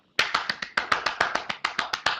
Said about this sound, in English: We can clap for each other. Golf clap.